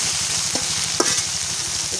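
Ash gourd cooking with dried fish in oil gives a steady, close frying sizzle with soft stirring scrapes and a few brief clinks, without speech.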